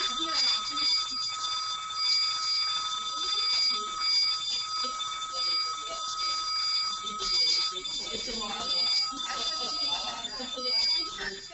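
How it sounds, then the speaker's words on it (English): A high, shrill alarm beeps in a rapid repeating pattern, with people talking underneath. "So now it sounds like there's an alarm going off."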